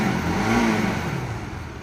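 A Bajaj Pulsar RS200 motorcycle engine runs at idle with a steady, close mechanical drone that swells slightly and then settles, heard alone without talk.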